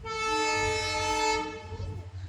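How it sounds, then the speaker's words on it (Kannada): A train arriving at Ginigera railway station sounds a long, loud, steady horn blast that fades near the end, over a low rumble of the moving train. "ಇಲ್ಲೊಂದು ಟ್ರೈನ್ ಬಂತಗ"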